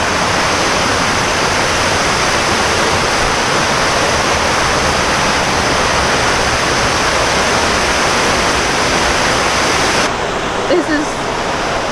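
Rushing gorge waterfall on a trail near Ithaca, a loud constant roar of falling water filling the whole span, with a brief faint voice near the end.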